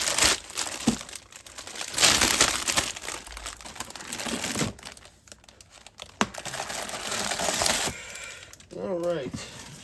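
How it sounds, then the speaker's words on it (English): An adhesive-top plastic bag holding a wooden story frame kit is ripped open up close, giving loud bursts of crinkling and tearing plastic, with a voice talking briefly near the end. "Since I'm going to be building this one right away, I can just rip it open."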